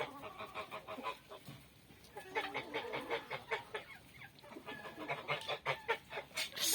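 A domestic turkey gobbles among geese and other fowl, with repeated honking and clucking calls layered in a busy, continuous flock chorus nearby; no talking.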